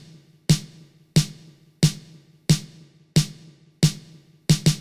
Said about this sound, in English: I'm going to start this beat with a very simple snare pattern